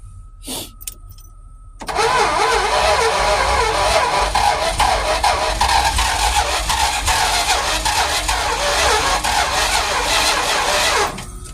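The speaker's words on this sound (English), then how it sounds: "it act like it wants to crank, but it definitely ain't cranking" A Mopar 400 big block in a twin-turbo build cranks steadily without firing, the starter churning loud and close for about ten seconds after a brief click and whir, then cutting off.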